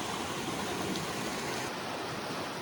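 A larger mountain stream with natural rock steps in its bed rushes steadily just above a waterfall, a close, continuous roar of flowing water with no voices.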